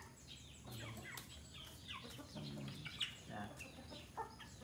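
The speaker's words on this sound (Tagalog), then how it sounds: "Mga native na manok siya kayo ha." Native Bisaya chickens kept at a home cluck and chatter in short, scattered calls, fairly faint and somewhat distant against a soft background, with no clear talk.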